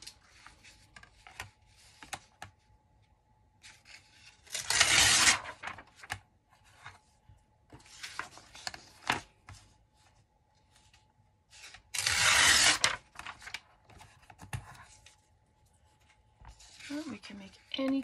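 Paper being cut down to size along a ruler for a handmade journal: two strong scraping strokes stand out among quieter rustling and handling, with a voice speaking at times.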